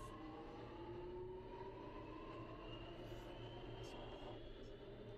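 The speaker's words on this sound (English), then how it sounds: "train number two should just be about to, should just, it's just about, should just about arrive" A Roblox subway train rumbles steadily with a low mechanical drone and faint high squeals, continuous and fairly close, like a subway car pulling in.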